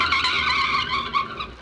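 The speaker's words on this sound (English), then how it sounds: "Suddenly, the second swerves ahead and forces the first car into the curb." Radio drama sound effect of a speeding car swerving and skidding into a curb, a loud, close, sustained tire squeal wavering for over a second, with no voices.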